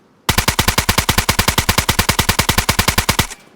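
Automatic gunfire in the video game DayZ bursts out as one long, loud, rapid string of about thirty evenly spaced shots with recoil being controlled, stopping abruptly after roughly three seconds.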